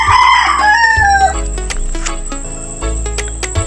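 Backyard chickens, hens with their chicks, make loud nearby crowing and clucking calls, with a drawn-out crow at the start followed by scattered clucks and peeps over a low background hum and insect chirring.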